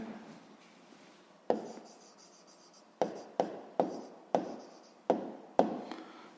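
A pen scratches on paper, with a soft opening stroke followed by a run of sharp, evenly spaced taps and short scratches as an answer is written close by.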